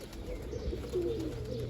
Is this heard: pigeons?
yes